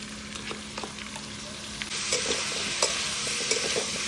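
Spice paste with turmeric stirred and fried in hot oil for a sweet-sour fish curry, steady sizzling that grows louder partway through, with scattered scrapes and taps of a spatula against the pan.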